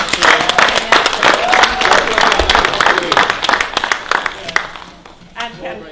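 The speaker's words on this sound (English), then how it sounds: "give her a round of applause" An audience gives a round of applause at a public talk on mass incarceration, many hands clapping loudly and steadily before fading out, with voices mixed in.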